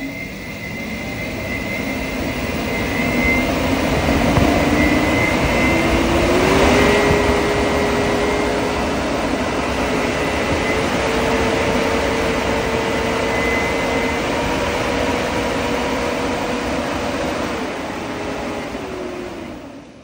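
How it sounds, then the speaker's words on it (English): A DIY electric ducted fan for a 1500mm EDF drone build runs on a 48 volt bench test, giving a loud, steady whine and airy roar with a rising tone that holds throughout, ending as it cuts off. "Let's watch that fan."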